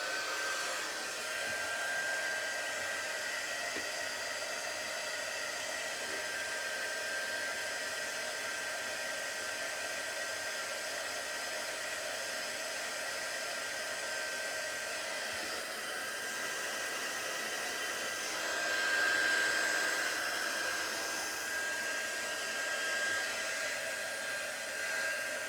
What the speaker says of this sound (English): And we get the heat gun all started so it's nice and hot.